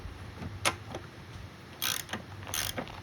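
A lawnmower spark plug being tightened with a wrench, giving a few short ratcheting clicks and metallic bursts, close and fairly faint, with no talk.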